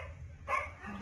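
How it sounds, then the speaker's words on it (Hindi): A black dog barks once at a home in Ramnagar, a single sharp, fairly close bark rising out of low background noise, with no speech. "और वो हमारे डॉगीज रहे न्यू डॉगी ये देखो काली भौंक रही है जोर जोर से"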